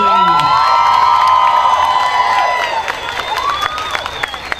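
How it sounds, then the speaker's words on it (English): A high school crowd cheers and applauds for a state-ranked girls' softball team, loud whoops and high shouts over dense clapping, the cheering swelling then easing into scattered claps and calls. "One last big round of applause."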